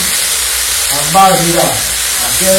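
Poppy seed, green chili and mustard paste fry in a pan with a steady close sizzle and hiss, while a voice briefly murmurs over it.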